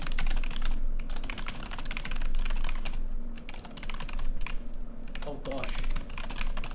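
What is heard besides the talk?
typing on a computer keyboard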